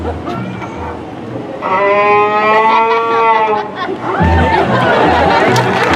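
A voice imitates a cow mooing at a live hillbilly comedy show at Knott's, giving long drawn-out moos with crowd murmur underneath.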